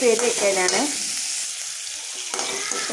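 Onion and green chillies sauté in a hot pan, with a continuous close hiss of frying. A voice is briefly heard at the start and again near the end.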